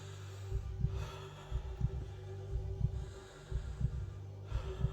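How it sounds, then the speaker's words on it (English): Steady heartbeat heard through a stethoscope in the video game The Tartarus Key: soft, low double thumps repeating at an even pace over a faint hum, quiet and close. "let's hear how our heart's doing"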